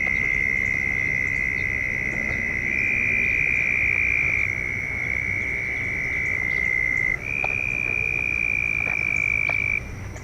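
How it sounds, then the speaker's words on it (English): Frogs croak loudly at night in a sustained, high trilling chorus, with overlapping calls that shift pitch and carry on without a break. "Listen to the frogs."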